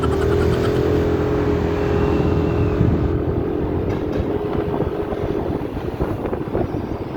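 A Yamaha NMAX 155 motor scooter is ridden, its steady engine hum loud and continuous with heavy wind buffeting over the microphone throughout, and no talking.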